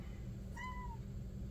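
A pet cat gives a single short meow, clear and nearby, rising then falling over about half a second against a steady low room hum.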